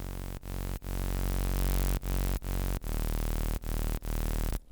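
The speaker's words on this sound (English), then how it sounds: "And then I'm gonna give it some distortion." A distorted sawtooth mid bass from the Serum synth plays as loud, gritty sustained notes broken by brief rhythmic gaps, and it sounds alone with no talking.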